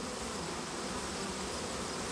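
A swarm of bees hums in a dense, steady buzz, close and continuous with no voices over it.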